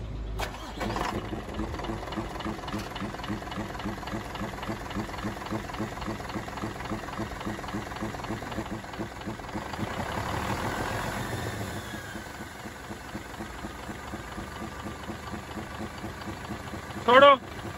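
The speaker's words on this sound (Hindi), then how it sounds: "गेज लगा दी गई है तो गाड़ी को करते हैं स्टार्ट।" A Hino truck's J08C diesel engine with low oil pressure cranks, catches and settles into a steady, loud idle. A brief sharp noise comes near the end.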